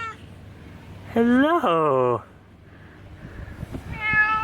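A house cat meows loudly at close range, one long drawn-out call and then a shorter one, with a person talking warmly just before and after.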